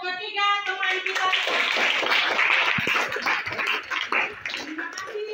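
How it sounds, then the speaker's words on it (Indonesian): Children in a classroom clap for their classmates in a dense burst of applause. A voice sings or speaks over the opening and the closing moments. "tepuk tangan untuk ketiga teman kita"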